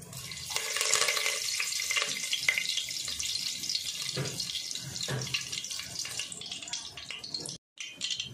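Curry leaves hit hot oil seasoned with mustard seeds and set off a loud, hissing, spattering sizzle that runs steadily and close. It cuts off briefly near the end and then resumes.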